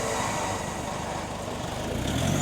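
A 4x4 vehicle spins its tyres in a smoky burnout at a drive day, a steady broadband engine roar and tyre noise filling the scene without a break, slightly swelling toward the end.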